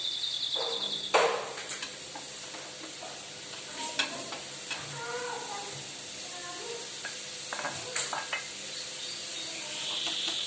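Sliced onion sizzling in a pan of hot oil for a melwi filling, a continuous close frying hiss with scattered scraping stir sounds and a few brief clinks.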